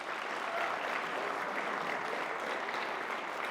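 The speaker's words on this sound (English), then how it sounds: "I want y'all to give yourself applause again" Steady applause from the audience at a school biomedical engineering STEM showcase, a dense wash of clapping hands that holds at an even level for the full few seconds with no voices over it.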